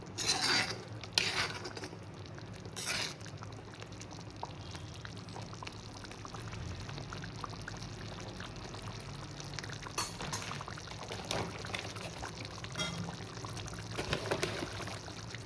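Puli inji, a tamarind and ginger sauce with small onions, reducing in a pan: a soft bubbling simmer broken by occasional spoon scrapes and clinks against the vessel, close and quiet throughout.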